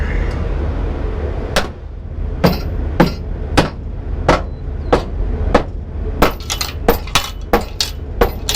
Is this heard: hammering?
yes